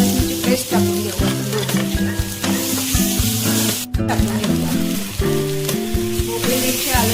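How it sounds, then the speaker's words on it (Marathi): Onion browned with ginger-garlic paste sizzles in a pan for pav bhaji, a continuous hiss and crackle running under tonal background music, with one brief break partway through. "त्याच्यात आलं लसूणची पेस्ट टाकून घेऊ"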